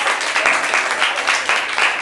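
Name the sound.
church congregation applauding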